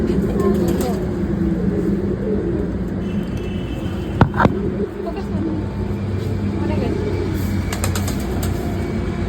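Pigeons coo softly near a house while people talk over them, with a steady background rumble of passing traffic.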